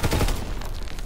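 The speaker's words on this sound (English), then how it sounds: "Anti-aircraft salvo commenced" Anti-aircraft salvo fire in a WWII video game: a dense, loud burst of overlapping booming shots at the start that thins into a steady crackling barrage, with no talking.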